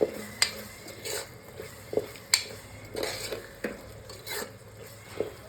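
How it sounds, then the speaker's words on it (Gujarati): Biryani masala and garam masala stirred in a pan with a metal spoon, a series of close scraping strokes and sharp clinks against the pan over a faint sizzle, with no talking. "એક ચમચ જેટલો મેં બિરયાની મસાલો લીધો છે અને અડધો ચમચ જેટલો ગરમ મસાલો પણ લીધો છે હવે તેને આપણે સારી રીતે હલાવી લઈએ"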